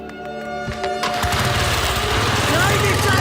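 Cartoon motorcycle engine revving and droning steadily, rising in loudness over the clip, with clanking effects and music under a loud animated chase scene.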